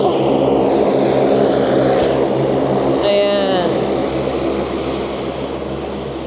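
A loud, steady propeller aircraft engine drones nearby, a small plane powering up for takeoff while a voice briefly speaks over the noise.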